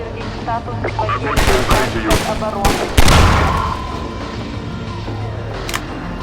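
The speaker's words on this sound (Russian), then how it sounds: "пистолет одновременно производит кучу выстрелов" A rapid cluster of pistol shots fires in quick succession from a glitch in the game Half-Life 2, loud and close, with a louder blast at the midpoint and a single shot near the end.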